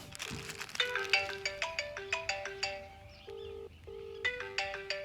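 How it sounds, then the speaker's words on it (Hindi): A mobile phone ringtone plays a bright, repeating electronic melody of quick tonal notes, moderately faint and steady over a low background hum with no voices. "फोन बजने लगा।"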